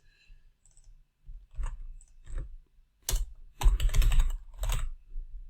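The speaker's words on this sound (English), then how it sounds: "you just have to type in something to make this work" Typing on a computer keyboard: scattered close key clicks, first light and sparse, then a denser burst of louder taps, in a quiet room with no talking.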